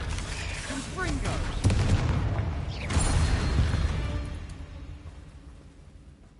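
Confringo fire blast spell cast in the Hogwarts Legacy video game, rapid bursts and booming impacts mixed with mechanical game effects, a voice speaking over the fading rumble.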